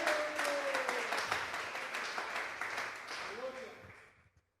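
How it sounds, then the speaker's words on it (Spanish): A church congregation claps along at a Sunday service, dense rhythmic hand-clapping under a raised voice and some faint tonal music, the clapping dying away toward the end. "Fuertes esas palmas al Dios de la gloria."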